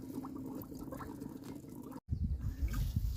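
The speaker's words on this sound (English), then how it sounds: "filling up our recycled water jugs with the black gold, liquid black gold" Compost tea pours into recycled water jugs, a soft continuous trickle and gurgle that breaks off briefly, then resumes with a fuller, lower splashing rush.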